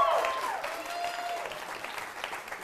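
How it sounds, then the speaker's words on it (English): An audience at a live magic show applauds after a card trick, broadband clapping fading over a few seconds, with faint tonal sounds mixed in near the start. "Give her a huge round of applause"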